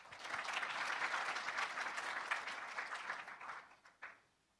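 A lecture audience applauds together in a hall, producing a dense, steady wash of clapping that tapers over four seconds into a few last scattered claps before falling silent.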